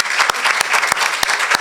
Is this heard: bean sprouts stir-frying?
no